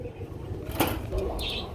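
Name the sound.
pigeons cooing at a pigeon farm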